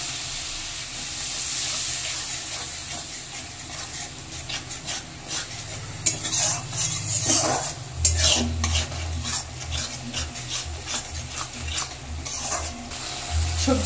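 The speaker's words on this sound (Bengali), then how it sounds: "এবার মশলাটা ভালো করে একটু কষে নেব, মশলা থেকে তেলটা ছেড়ে যাওয়া পর্যন্ত" Spice paste being stirred and fried in a pan for a fish curry, with continuous close scraping and stirring over a soft sizzle and hiss, growing louder partway through.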